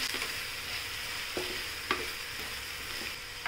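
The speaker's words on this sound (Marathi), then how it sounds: "ते 3 मोठे कांदे चिरून घेतले ते टाकूया आणि जरा परतून घेऊया" Three large chopped onions frying in oil with crackled mustard seeds for a drumstick curry, a continuous close sizzle broken by a few sharp scrapes as a spoon stirs the pan, no voices.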